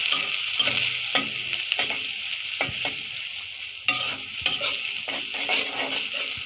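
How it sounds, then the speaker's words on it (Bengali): Steady crackling sizzle of onions frying in a hot pan, with occasional sharp scrapes and clinks of a utensil stirring throughout. "এই তো পেঁয়াজ দিয়ে নিই"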